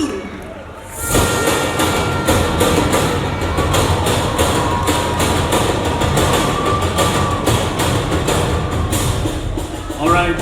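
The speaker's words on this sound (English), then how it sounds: "Round of applause for contestant number 16." Crowd applause for a contestant at the Miss Uganda pageant final, loud continuous clapping and cheering from a large audience that erupts after a brief quieter opening and carries on steadily.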